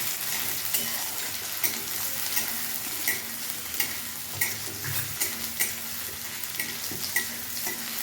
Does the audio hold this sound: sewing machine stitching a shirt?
no